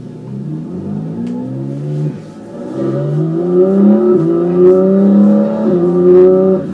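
A Porsche 718 GT4 with a naturally aspirated engine revs hard through several rising pulls, each climbing in pitch and then dropping for a shift. It is loud and close, with no talk.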